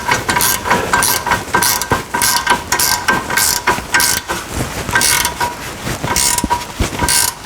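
A wrench ratchets steadily while tightening a heavy bolt on a Kimpex Commander plow mount on a UTV, a loud, close run of rapid metallic clicks in repeated strokes, with no talking.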